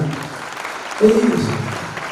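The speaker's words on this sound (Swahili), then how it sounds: "Tupige watu banana makofi mazuri sana." Church congregation applauding at a new sanctuary's grand opening, a brief burst of clapping under a voice speaking.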